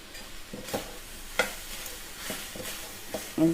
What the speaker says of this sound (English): this I'm just going to mash it with my hand